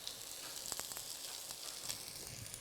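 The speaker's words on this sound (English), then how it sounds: "Add in our onion and garlic." Onion and garlic sizzle steadily in about three tablespoons of hot extra virgin olive oil for eggplant parmesan sauce, a continuous close hiss with a few brief crackling pops.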